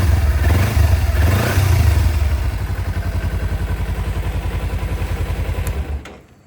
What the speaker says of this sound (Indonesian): untuk suara bawaan dari Kawasaki Ninja 250 FVO seperti ini guys ya